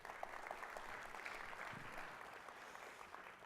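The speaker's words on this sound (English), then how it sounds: "Let's give him a round of applause." A conference audience applauds a panel moderator at an event on cities and innovation; even, sustained clapping from a sizeable crowd, moderately loud and uninterrupted.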